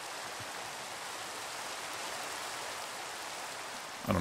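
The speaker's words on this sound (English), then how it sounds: "That's right, it's raining" Steady hiss of rain falling in the video game Minecraft, a continuous even wash of soft noise at low level, with a brief louder sound at the very end and no talking.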